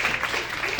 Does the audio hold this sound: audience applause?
yes